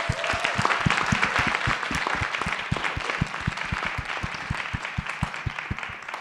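Sustained audience applause for a panel at a girls' STEM keynote event, a dense crowd of clapping hands with a few sharp, closer claps standing out, steady and even throughout with no talk.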